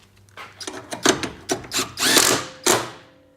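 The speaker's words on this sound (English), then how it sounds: "Just need to tighten this bolt up right here" A power tool tightens a bolt while a radiator goes into a Honda Civic during an automatic-to-manual transmission swap. Several short, close whirring bursts run into one longer, louder spin, with no talking.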